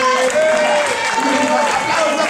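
Clapping from an audience at an outdoor stone-lifting contest in Schliersee, a broad steady wash of applause mixed with voices and an announcer over it.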